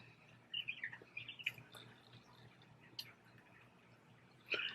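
Pet birds chirp indoors in short, bright bursts, a cluster of quick tweets early on, then scattered single calls and a final sharp burst, fairly faint over a low room hum.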